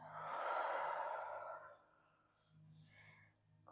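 A long, audible exhale through the mouth during a slow yoga forward fold, loud and close at first, then fading into quiet breathing with faint background sounds, no talking.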